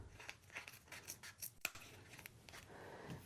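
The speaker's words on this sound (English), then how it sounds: "Make sure just to kind of cut off some more of that above the fold." Scissors cutting away excess canvas above the fold while stretching a canvas print over stretcher bars, a run of quick close snips with one sharper clip partway through.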